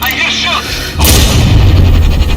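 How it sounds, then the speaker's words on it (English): Gunfire in the video game Sniper Ghost Warrior Contracts 2, a heavy booming shot that bursts in suddenly and rumbles on loudly, following a brief shouted voice. "They're shooting on us!"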